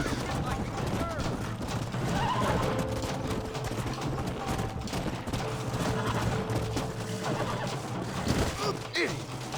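Horses in the Western game Red Dead Redemption whinny and snort amid continuous hoofbeats and a dense, busy background with bursts of gunfire, all at a fairly loud, steady level while a voice speaks over the action.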